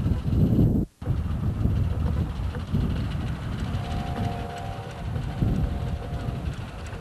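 A miniature live steam track repair locomotive rolls past on a hobby railroad, its steady rumble and rail clatter running close throughout, with a brief dropout near one second and a faint tonal whine in the middle.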